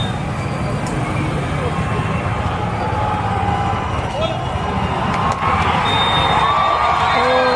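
Dense crowd of cricket fans at an IPL final fan circle, with continuous cheering, whoops and shouting over a loud, steady roar, voices chattering throughout and traffic faintly underneath.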